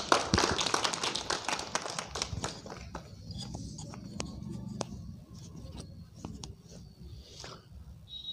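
Clapping breaks out at a Republic Day celebration in a Delhi public school as the founder is welcomed to the stage, with a dense burst of claps at first that thins into scattered, quieter claps and faint background chatter.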